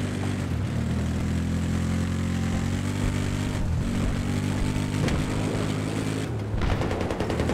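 A helicopter gunship in the Battlefield video game, a loud continuous rotor and engine drone with rapid gunfire rattling underneath, no voices.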